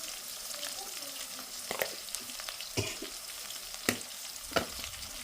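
Mustard, fenugreek and fennel seeds tempering in hot oil along with onion and green chilies, a continuous sizzle with a few sharp pops or spoon taps scattered through it, close by.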